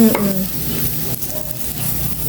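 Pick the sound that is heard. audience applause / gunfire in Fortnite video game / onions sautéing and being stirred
onions sautéing and being stirred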